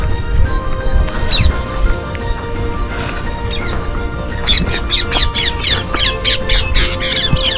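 Parrots squawk on Madhuvan island off the coast near Talaja, scattered harsh calls at first, then a rapid rhythmic burst of loud repeated squawks over continuous outdoor background noise.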